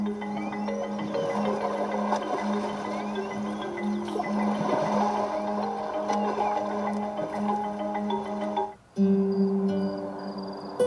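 Beach nature soundscape from a Hyundai IONIQ 6 sound system: a continuous washing, surf-like wash with steady tonal hum underneath, briefly cutting out near the end before resuming.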